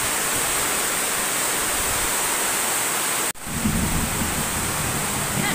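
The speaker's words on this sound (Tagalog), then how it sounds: "Malakas yung kulog." Heavy rain falls in a constant loud hiss. A sharp break is followed by a deeper rumbling roar, like thunder rolling under the downpour, with no talking.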